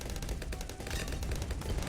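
Churchill tank hero ability firing in Bloons TD 6, a dense, rapid barrage of gunfire-like blasts continuing without pause at moderate volume.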